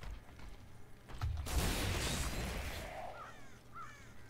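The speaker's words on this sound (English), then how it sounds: "Crow sounds." Crows caw in the video game Diablo 3 during a burst of dense game noise, followed by two or three short, quieter calls rising and falling near the end.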